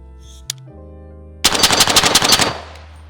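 A firearm fires a rapid burst of about ten loud, close gunshots at a target, preceded by a few mechanical clicks and a faint hum, with the reports fading into a short echo.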